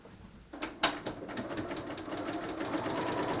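A sewing machine run from a foot pedal stitches along the edge of a quilt, starting after a brief quiet moment with a couple of clicks, then settling into a steady, rapid mechanical whir of stitching close by.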